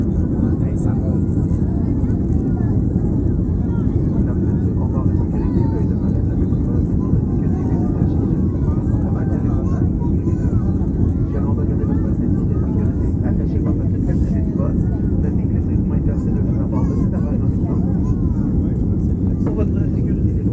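Airliner taking off on a July 2018 flight to Cuba, heard from inside the cabin: a steady, loud low engine roar holds throughout as the plane leaves the ground and climbs, with faint voices underneath.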